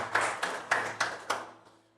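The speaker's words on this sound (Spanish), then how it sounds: "este pueblo, Señor, te da un aplauso de bendición" Congregation clapping during a church service, a handful of separate, spaced claps fading out, fairly faint and with no talking.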